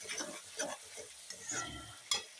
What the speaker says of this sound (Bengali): মশলাগুলো ভালো করে কষাতে হবে।